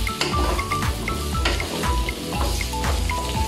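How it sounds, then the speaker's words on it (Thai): Pumpkin frying in a hot oiled pan for a stir-fried pumpkin with egg dish, a loud, close, crackling sizzle with repeated scraping stir strokes in a steady rhythm, and no voices. "เราจะทอดฟักทองให้มันเหลืองเลยนะคะออกไหม้เกลี่ยๆนิดนึงนะคะ"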